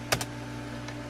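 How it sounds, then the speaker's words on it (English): A computer keyboard on a new video editing rig being set up, with a couple of quick, crisp key clicks close up and one more later, over a steady electrical hum. "now we have to type in"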